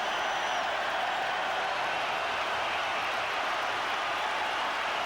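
A rugby crowd in a stadium cheers and applauds a try, a dense, steady roar that holds at the same level throughout with no clear breaks.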